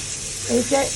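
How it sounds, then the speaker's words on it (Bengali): Field crabs fry in a pan with a steady close sizzle, and a voice briefly speaks over the sizzle near the end. "এখন আমার মেজো আপা কাঁকড়াটা ভাজতেছে"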